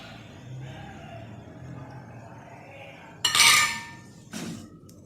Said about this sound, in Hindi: मैदा डाल के इसको अच्छी तरह से मिक्स कर लें।